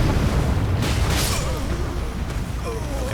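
A fiery explosion attack from Elden Ring Shadow of the Erdtree booms out with a dense, rumbling burst, followed by crackling aftereffect noise that lingers through the rest of the moment, with no talking over it.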